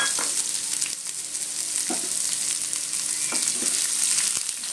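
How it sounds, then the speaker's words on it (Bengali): Chopped onion and garlic fry in hot oil with five-spice (panch phoron), a steady loud sizzle with occasional stirring clinks of a spatula against the pan. "এর মধ্যে আমি পেঁয়াজ রসুন কুচিটা দিয়ে দিলাম"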